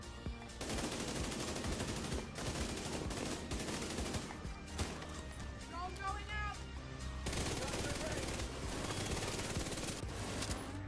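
An ACRE rifle fires in The Division 2, with rapid, dense bursts of automatic gunfire running almost the whole time and a voice briefly heard among the shots.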